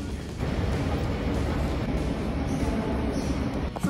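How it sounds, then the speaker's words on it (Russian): Interior of a moving passenger train, a steady loud low rumble and rolling wheel noise that fills the whole few seconds, with no voices. "Вот Ева, мы сели в поезд, там мама."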